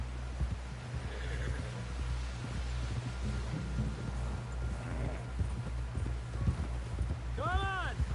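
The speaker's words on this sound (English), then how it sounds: "Someone help John down off this horse." Horse hooves clip-clop at a steady trot in the video game Red Dead Redemption 2, a close, even rhythm running throughout beneath game music and a horse's whinny near the end, with someone talking over it.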